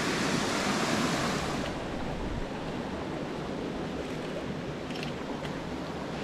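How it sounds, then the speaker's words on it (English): Small waterfall pouring into a pool on a North Carolina trout stream, a steady broadband rush of falling water that stays constant and close throughout, with no voices. "Kind of this little waterfall hole."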